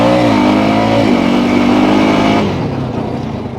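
Honda Rancher ATV at half throttle, about 29 mph, roaring loudly close by with a rising engine whine, then fading as it passes and moves away.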